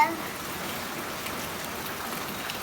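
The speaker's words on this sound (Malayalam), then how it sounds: "നല്ല നല്ല മഴയാണ് ഇവിടെ" Steady heavy rain pours down in an even, hissing wash with no other sounds standing out.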